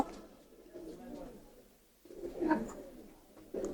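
Pigeons in a shop that sells all kinds of pigeons, giving soft throaty coos in short bursts at close range, with a human voice audible in the background.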